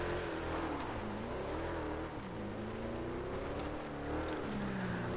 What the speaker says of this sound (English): the soothing sounds of this beastly engine in this awesome car